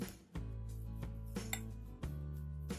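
Spoon stirring a filling of egg yolks, finely grated cheese, sour cream, salt and pepper in a bowl, with close, repeated clinks and scrapes against the dish in an irregular rhythm, no talking.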